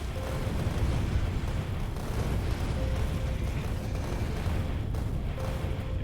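Artillery fire and explosions rumble on in the video game Factorio, a dense, continuous low booming wash with no distinct separate blasts, steady and fairly loud throughout.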